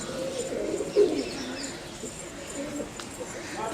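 Pigeons cooing on a Punjab livestock dairy farm, a soft, close coo with a brief louder burst near the start over steady low farmyard ambience.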